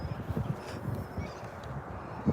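Ducks quack in short, irregular bursts at close range, with soft splashing and rustling around them.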